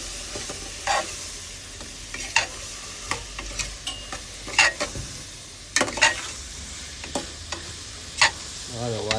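Masala with turmeric, coriander powder and garam masala frying in a pan for palav, a steady close sizzle punctuated by repeated scraping stirs and utensil clacks at irregular intervals.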